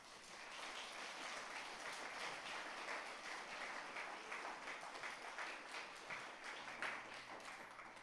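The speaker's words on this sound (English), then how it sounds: "so let's give a round of applause for them" At a TEDx event, an audience gives a round of applause for the audiovisual team, a steady, even wash of many hands clapping that sounds distant and quiet, holding for several seconds without talk.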